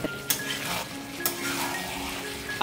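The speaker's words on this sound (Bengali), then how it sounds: "এরকমভাবে আমি বিরিয়ানির যে মাংসটাকে কষিয়ে নিচ্ছি আর মাংস বা আলু একসাথে আর কি কষাচ্ছি" Meat and potatoes braising for biryani in a pot, a constant sizzle with a few sharp scrapes and clinks of a utensil stirring against the pan.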